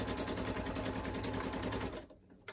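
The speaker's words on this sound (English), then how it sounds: "And now I'm just going to sew." A sewing machine runs steadily at close range, stitching a large fabric face mask with a rapid even rhythm, then stops abruptly near the end, leaving a faint click.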